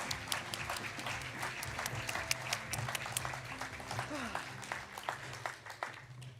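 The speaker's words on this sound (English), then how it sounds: "Gawn ni un clap to, please." An audience at a youth work excellence awards ceremony claps steadily throughout, a dense, even applause heard from some distance.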